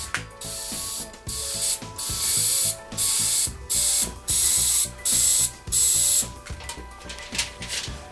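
An FCP compressed sprayer spraying aluminum out onto paper towels, a series of loud bursts of hissing spray separated by short pauses, close and alone.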